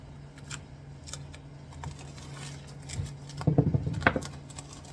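Interior material from a 1981 C3 Corvette being cut: faint, quiet snips and small clicks that build into a short cluster of crisper cuts toward the end, over low background hum.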